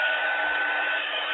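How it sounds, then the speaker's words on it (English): A heat tool blows steadily for heat embossing powder on a Stampin' Up! card, a loud, close, constant whooshing hum with no speech. "so now we're going to heat emboss this"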